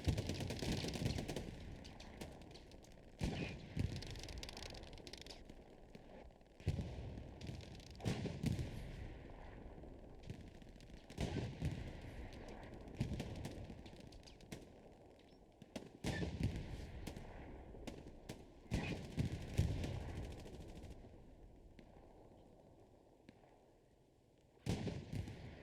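Dense gunfire and explosions pour onto Allied troops in the Hell Let Loose game, sounding as continuous crackling volleys and heavy booms at mid distance, with bursts rising and falling throughout.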